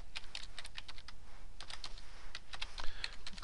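Quick, uneven keystrokes on a computer keyboard as a macro name is typed in Excel, close and fairly quiet, with clusters of taps and brief pauses between them.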